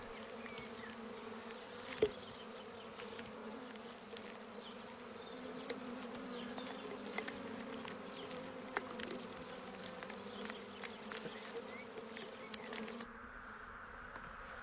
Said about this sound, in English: Nothing can compare the unimaginable size of a vast swarm.